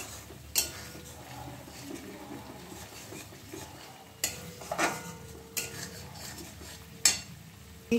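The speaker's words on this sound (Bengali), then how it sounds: "এবার সবগুলো ভালোভাবে নেড়ে মিশিয়ে দেবো।" Spices with Kashmiri chili paste for a prawn soya kofta curry are stirred in a pan: soft steady scraping and faint sizzling, broken by a few sharp utensil clinks against the pan.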